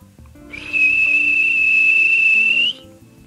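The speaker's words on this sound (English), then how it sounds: "The guard blew his whistle." A railway guard's whistle gives one long steady shrill blast of about two seconds, loud and close, that rises slightly at the very end before cutting off.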